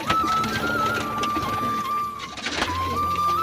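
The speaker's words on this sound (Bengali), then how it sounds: "দেখেন কত বিগ সাইজের কবুতর দেখেন" Large French pigeons at a loft cooing in a soft, continuous low murmur, mixed with a steady mechanical hum and faint background noise; no one speaks.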